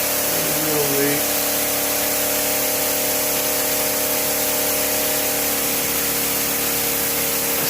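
Water sprays as a fine mist from nozzles during a pressure test of a fodder room's watering system, a constant loud hiss with a pump-like hum underneath, steady throughout.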